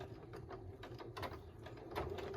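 A sewing machine runs a normal straight stitch forward and then in reverse on fabric for a cloth wallet, a faint, quick mechanical whirring and ticking that comes in short, close bursts.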